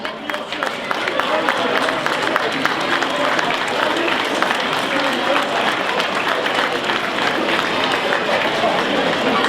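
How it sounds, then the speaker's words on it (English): Applause from the audience at a football club presentation night for Spennymoor Town, a dense, steady wash of clapping and crowd noise holding for the full stretch with some voices mixed in. "So again, a big round of applause."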